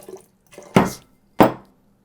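Tablespoons of water poured into an applesauce vinaigrette of maple syrup and vinegar, a few soft splashy pours, the two main ones loud and close, with no talk.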